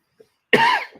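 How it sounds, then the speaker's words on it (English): A single short, sharp cough close up, preceded by a faint tiny click, otherwise quiet. "you've got a cough as well"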